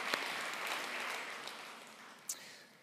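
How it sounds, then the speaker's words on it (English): A faint, distant round of applause for Jane from the audience at a leadership event, soft and steady for a few seconds with one brief sharper sound near the end. "Round of applause for Jane."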